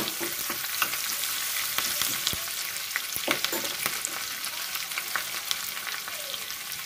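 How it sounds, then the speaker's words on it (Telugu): Cumin, green chillies, ginger and curry leaves fry in a hot pan with a steady close sizzle, broken by sharp crackles and pops throughout. "ఇప్పుడు కరివేపాకం వేసి ఫ్రై చేసుకోవాలి"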